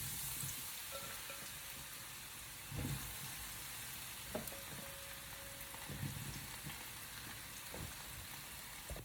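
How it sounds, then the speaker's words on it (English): Eggplant pieces fry in hot oil for rice lasagne alla Norma, a soft continuous sizzle with occasional crackles and light stirring knocks, fairly faint and without talk. "you're going to put it in the oil that I have sauteing in there and let them cook"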